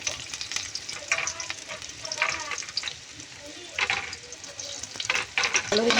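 Chopped onion and garlic fry in cooking oil in a pan, a close sizzle that swells and dips as a utensil stirs and scrapes through it in bursts.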